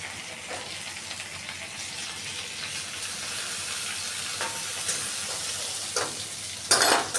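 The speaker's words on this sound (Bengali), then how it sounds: "পটলটা একদম এইভাবে লাল করে ভেজে নিয়েছি" Pointed gourd (potol) pieces fry in oil in a kadai, giving a steady close sizzle with brief clatters of stirring and a louder scrape near the end.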